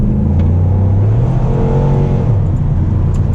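A Chevrolet Impala Super Sport accelerating hard from inside the cabin, a loud steady engine roar rising in pitch as it pulls through a gear, with no talk.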